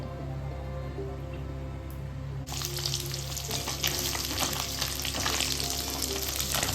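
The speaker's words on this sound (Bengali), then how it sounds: "মাছটা না একটু কড়া করে ভাজলাম" Fish sizzles and crackles in hot oil in a home kitchen, a steady dense frying hiss that grows louder and busier partway through, with no talk.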